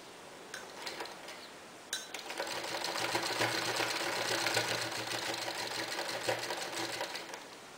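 A sewing machine with an 18 size needle stitches a door mat made from an old saree, running in one long, steady whir after a few faint clicks, fairly quiet and without talk.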